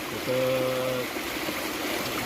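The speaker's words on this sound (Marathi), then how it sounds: "ह्या त्या शेतामधून जे पाणी जात ना ते त्याचा प्रवाह एकदम भयानक आहे" Floodwater rushing fast through farm fields near a river bridge after a night of heavy rain in Dharashiv district, a steady broadband roar with a brief tonal hum partway through.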